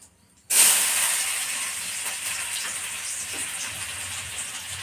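Cumin, mustard seeds and chopped onion dropped into hot oil for a dry vegetable curry, bursting into a loud steady hiss that eases slightly but keeps sizzling, close up.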